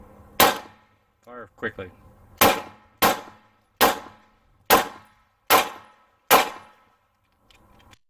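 Seven sharp, loud gunshots of hollow point rounds hit an armor-glass-coated window at steady intervals of just under a second, each with a ringing tail, after a brief spoken word.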